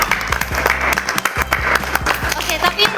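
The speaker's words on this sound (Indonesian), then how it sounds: "Tepuk tangan dong." A small group claps during a podcast recording, with loose, uneven hand claps close to the microphone and voices talking over them.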